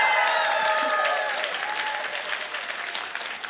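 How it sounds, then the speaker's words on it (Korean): An audience at a live singing performance gives a big round of applause, loud dense clapping that gradually thins and fades toward the end. "원하신다면 큰 박수로 한번 부탁드립니다"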